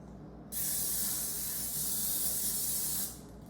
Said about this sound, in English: we're going to grease the bundt pan